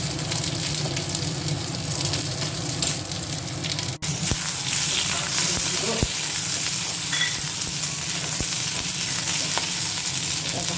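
Potato and eggplant pieces fry in hot oil in a pan, giving a loud, steady sizzle that runs throughout, with a few sharp clinks from stirring.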